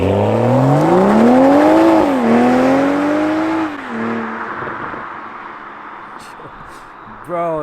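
A Toyota Supra A91 CF-Edition accelerates hard close by, its engine note climbing through rising revs, dipping at a gear change and climbing again before fading off, with a brief blip near the end.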